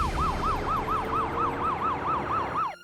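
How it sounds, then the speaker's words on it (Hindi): An ambulance siren wails in a rapid, steady rising-and-falling cycle, loud and close, continuing for a few seconds with no voices over it. "यादव, पता करो एम्बुलेंस कहाँ तक पहुंची, जल्दी।"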